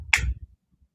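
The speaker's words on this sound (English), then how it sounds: "when I clapped, it shut the camera off" A single sharp hand clap, loud and close, with a quick bright attack that fades within a fraction of a second, followed by near silence.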